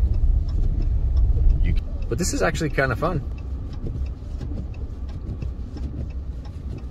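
A truck engine churns steadily as the fully equipped vehicle turns into deep snow during a blizzard, with a continuous low rumble throughout and a person talking briefly over it.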